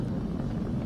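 Falcon 9 rocket engines just past Mach 1, coming through as a steady, dense low roar that holds unbroken for the whole moment, with no voices over it.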